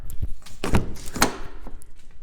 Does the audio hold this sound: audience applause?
no